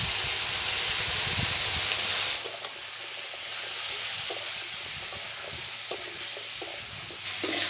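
Potatoes and Malabar spinach stems frying with onion in a pan, a steady soft sizzle with occasional stirring scrapes, louder at first and then settling into a quieter, even hiss.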